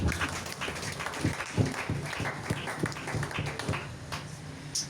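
A church congregation applauding and acclaiming the King of Kings, with steady dense clapping and scattered voices throughout, fairly close and sustained with no clear break.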